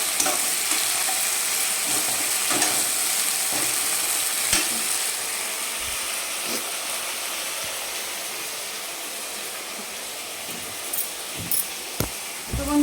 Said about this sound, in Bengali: বাটার দিয়ে একটু নাড়াচাড়া করে দিচ্ছি দেখো